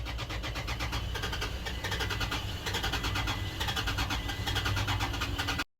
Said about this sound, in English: Truck no longer starts.